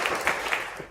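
An audience at a quiz competition applauds a participant with a brief, steady patter of clapping at moderate distance.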